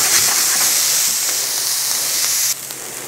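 Onions sizzling in oil in a carbon steel aluminum clad pan, a loud steady bright hiss that drops a little in level near the end.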